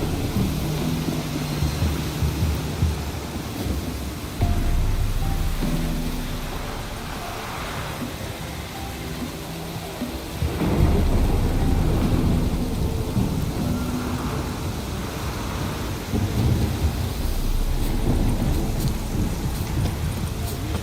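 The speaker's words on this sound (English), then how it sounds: "Oh, it's drizzling." Steady rain and rolling thunder in the video game The Witcher 3, a dense, continuous wash with deep low rumbles that swell and recede, and no voices.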